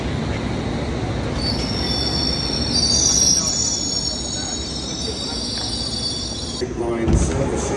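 A London Underground train rumbles along with high, sustained wheel squeal rising and fading, a busy rolling clatter underneath.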